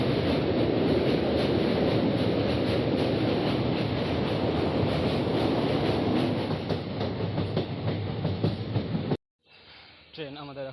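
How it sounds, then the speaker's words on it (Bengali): The Gour Express from Sealdah to Malda rumbles across the Ishwar Chandra bridge over the Hooghly river, a loud, steady roar of wheels and carriages heard from on board, ending abruptly before a voice speaks. "ট্রেন এখন আমাদের ক্রস করছে ঈশ্বরচন্দ্র সেতু,"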